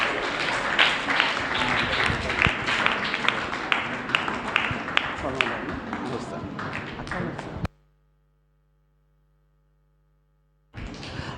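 A church gathering applauds the women who cooked for everyone, dense crowd clapping with sharp individual claps and voices mixed in for several seconds before cutting to near-silence, then resuming briefly.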